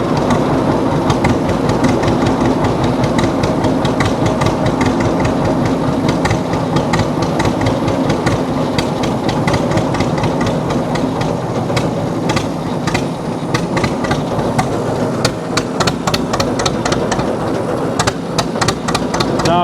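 A 1948 John Deere D tractor with a straight pipe idles, its two-cylinder exhaust pounding out a loud, close, rapid chugging beat that runs steadily throughout with sharp popping pulses.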